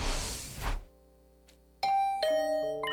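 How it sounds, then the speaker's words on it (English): A doorbell rings in the video game The Hundred Line -Last Defense Academy-. After a short burst of noise and a quiet pause, a clear electronic chime plays a sequence of bright, sustained tones that ring out and overlap. "Huh? Is that my doorbell?"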